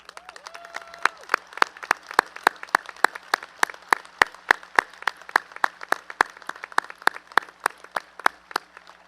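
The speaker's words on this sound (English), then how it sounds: "please rise so we can give you a round of applause for all your hard work" Sparse applause for the teachers at the 2021 Siegel High School graduation: a few people clap in distinct, fairly regular claps that carry through a large room, with no talking during it.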